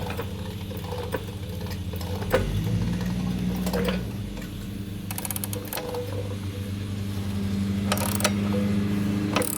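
A Yamaha FJ-09 motorcycle raised on a lift jack: a steady mechanical whirring hum with creaks and bursts of ratcheting clicks, heard close with no talk.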